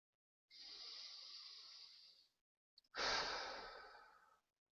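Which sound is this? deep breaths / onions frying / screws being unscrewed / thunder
deep breaths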